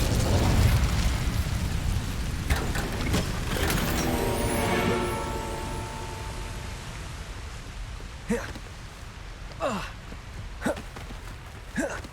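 Casting the Incendio fire spell in Hogwarts Legacy sets off a loud roaring burst of flame that fades into a crackling rumble, followed by several sharp pops and whooshes.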